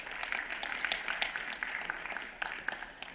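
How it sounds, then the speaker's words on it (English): Warm audience applause for panelists at a private sector forum, a moderate, fairly distant patter of many hands clapping that swells and eases slightly over a few seconds. "please can you join me in giving our panelists a very warm round of applause"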